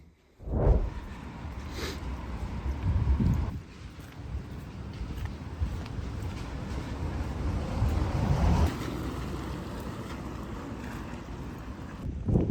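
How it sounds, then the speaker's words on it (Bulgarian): Gusty wind buffets the microphone outdoors in loud rumbling bursts, with a steady wash of rain-like hiss underneath. "Супер, точно излезнах и започна да вали. Просто прекрасно. И духа."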